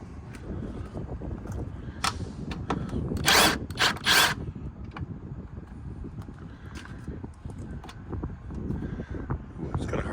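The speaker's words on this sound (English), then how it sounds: "Let's go grab us a socket and unbolt these." A power tool with a socket spins off the mirror fasteners on a Ford 6.0 L Power Stroke dually truck, giving short whirring bursts outdoors amid wind noise and low background rumble.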